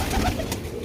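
A single short pigeon coo, close and soft, with no talking.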